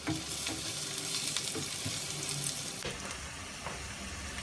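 Onions fry in hot oil until light golden for chicken tikka karahi, a continuous close sizzle broken by occasional spoon stirs scraping the pan.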